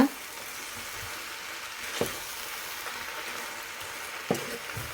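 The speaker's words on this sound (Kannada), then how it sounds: "ನಿಧಾನಕ್ಕೆ ಮಿಕ್ಸ್ ಮಾಡ್ಕೊಳ್ಳೋಣ" Potato and soya chunk curry being stirred in a small pan, a soft steady sizzle with a few sharp spoon scrapes against the pan.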